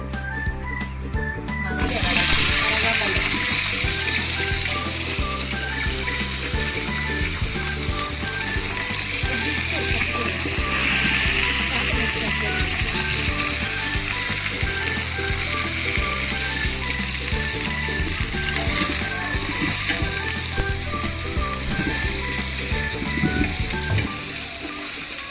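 Onions and a bay leaf fry in hot oil with a steady, dense sizzle that holds for the full stretch at close range, while a voice talks over it at times.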